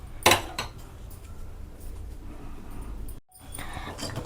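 A spoon stirs flattened-rice payasam with sago cooking in milk in a metal pot. One sharp clink on the rim is followed by steady, soft scraping and swishing close up.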